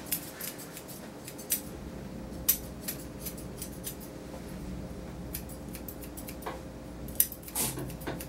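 Scissors snipping through the fur of a sedated dog during grooming, a series of quick close metallic clicks at an uneven pace, with no talking.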